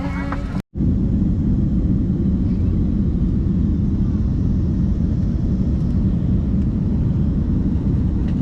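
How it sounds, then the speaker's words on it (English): Steady, loud low rumble fills a jet airliner cabin during the climb after takeoff from Minneapolis–St. Paul Airport on a flight to Paris Charles de Gaulle, with one brief dropout near the start. "Just took off from MSP Airport, about to fly to Charles de Gaulle in Paris."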